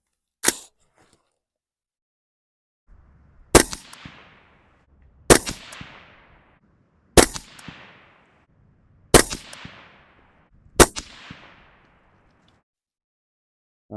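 Five loud AR rifle shots are fired at a 200-yard line on an outdoor range. Each sharp crack comes about two seconds after the last and decays into a short echo, with quiet gaps between shots.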